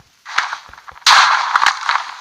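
A Minecraft explosion, likely an end crystal in the Ender Dragon fight, comes as a sharp blast over a hissing crackle, followed by a louder burst that fades into sustained rumbling hiss with scattered pops.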